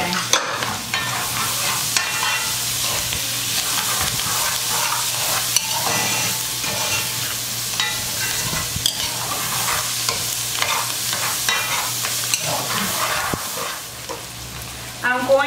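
A cup of cilantro hits a hot pot and sizzles with a dense, crackling fry, broken by scraping stirs and occasional clinks throughout.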